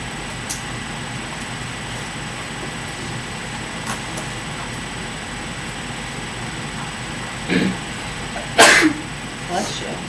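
A single sneeze in a classroom, short and sharp near the end, following a softer throat sound, over quiet room noise and a faint steady hum.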